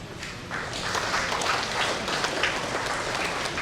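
Applause from a gathering of village heads and district officials at a provincial work meeting, a steady broadband patter of many hands filling the whole stretch, fairly close and even in level.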